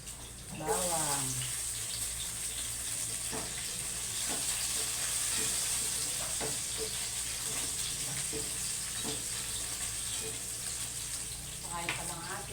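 Onion and garlic sizzling as they are sautéed in a pan for a chicken dish, a steady frying hiss with occasional stirring clinks, while a person speaks now and then over it.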